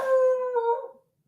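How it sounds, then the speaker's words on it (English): A dog lets out a single clear howl, sustained and steady for nearly a second before wavering and trailing off into silence. "We hear you, dog."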